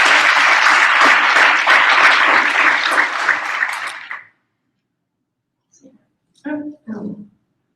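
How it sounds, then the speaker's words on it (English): Applause for Ryan Homey at a business meeting fills the room loud and steady for about four seconds, then stops abruptly; a few scattered bumps and voice fragments follow in the quiet. "I'd like to give him a round of applause for all the work"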